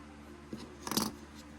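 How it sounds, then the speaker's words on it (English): Scissors snip through a strand of crochet yarn, a brief close, crisp cut in a quiet room with no one speaking. "And just cut your yarn"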